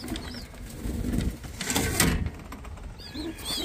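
Pigeons coo close by in soft, throaty, rolling calls that repeat several times over a low background rumble.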